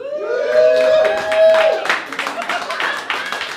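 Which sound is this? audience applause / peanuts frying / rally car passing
audience applause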